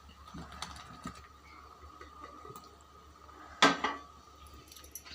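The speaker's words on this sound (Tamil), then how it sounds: "இந்த நேரத்தில் இந்த சேப்பங்கிழங்க இதோட சேர்த்திக்கலாம்" Taro root pieces go into a pot of tamarind curry with one brief, sharp clatter against the vessel, set against an otherwise quiet kitchen.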